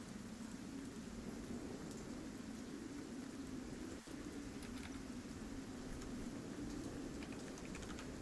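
Steady rain falls continuously in a soft, even hiss, with a brief thump near the middle and no voices.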